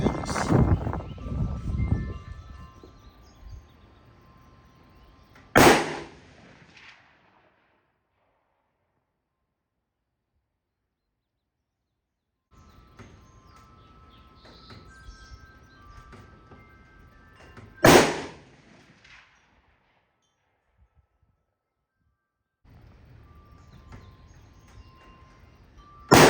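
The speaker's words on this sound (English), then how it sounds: "we're gonna send some rounds down range" A custom rifle from WHMC Guns fires two sharp, loud reports down range, about twelve seconds apart, each cut short into near silence, with faint outdoor rustle and distant bird calls in the gaps.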